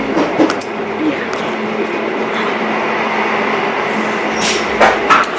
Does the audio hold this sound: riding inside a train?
yes